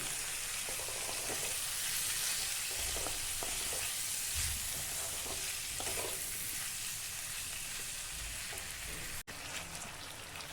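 Taro stolons and green chillies frying steadily in a pan, with a dense continuous sizzle broken by occasional scraping stirs, close and loud throughout with no talking.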